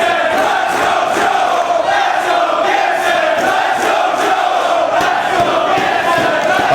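A large wrestling crowd fills the Amherst Pepsi Center near Buffalo with a steady, dense roar of cheering and shouting, loud and continuous throughout with no clear gaps.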